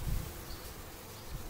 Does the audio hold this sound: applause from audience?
no